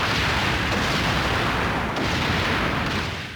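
Continuous heavy explosions in the Star Fox Zero game roar loudly and densely, one blast rolling into the next without a gap.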